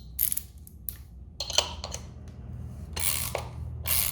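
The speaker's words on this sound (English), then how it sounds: "let's see if we can torque this thing down" A ratchet wrench torques down bolts on a new turbo kit fitted to a Z car, giving several quiet bursts of rapid clicking separated by short pauses.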